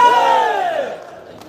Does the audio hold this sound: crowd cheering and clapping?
yes